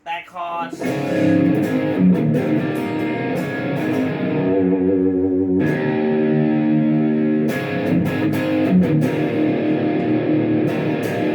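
An electric guitar through a POD HD500X with a shimmering chorus effect and gritty distortion plays a sustained solo passage, loud and close throughout.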